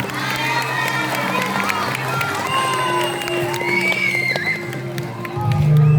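An audience at a school oration event for Palestine claps and cheers for a fifth-grade girl, a busy crowd roar with whoops and children's shouts, and a low hum rising near the end.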